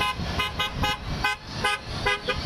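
Car horns honk repeatedly in short bursts of varying pitch from passing traffic, sounding support for crowds of Trump supporters lining the Southern Boulevard Bridge in Palm Beach; the honks are loud and close.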